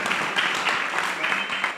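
Audience applause at a community dialogue event, a steady broad wash of many hands clapping at moderate loudness with no talking over it.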